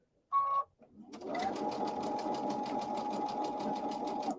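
A sewing machine runs steadily, stitching the seam of a reversible fabric basket with a fast, even rhythm. It starts after a short tone and a pause, then continues loud and close to the end.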